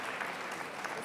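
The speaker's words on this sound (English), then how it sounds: "Josh, we can clap now, I think." Audience clapping after a talk at an ideas event, a brief, fairly quiet patter of many hands with even density and no speech over it.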